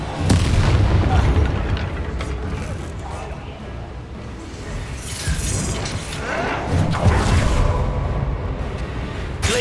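Bombarda spell explosions in the Hogwarts Legacy video game, booming blasts and crashing debris amid battle noise, with a voice speaking over the action.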